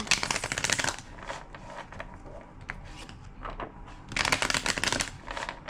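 A deck of playing cards is riffle-shuffled twice during a tarot-style reading, each burst a rapid fluttering rattle lasting about a second, with quieter handling in between.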